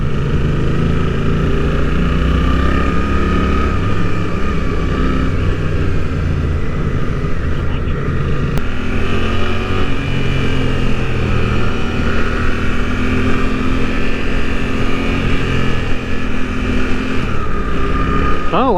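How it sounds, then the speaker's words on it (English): A Suzuki GSX-8R sport bike engine under way on a ride, a steady loud drone with wind rush that holds constant throughout, with no voices. "Oh yeah, this motor feels good on this bike."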